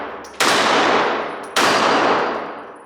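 Two loud, sharp gunshots from a Smith and Wesson M&P 380 Shield EZ pistol about a second apart, each with a long fading ring-out, close and alone.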